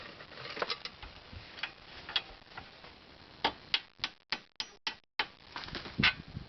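Ratchet wrench loosening an 18mm bolt on the end link of an Impala's steering setup, a run of quick clicking ticks that speeds into a few sharp, separated clicks, close and alone.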